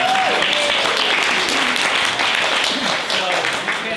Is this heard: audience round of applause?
yes